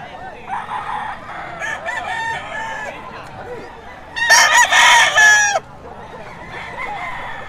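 A sweater gold gamefowl rooster crows loudly and close by in a single long call, with softer clucking and farmyard bird sounds before and after.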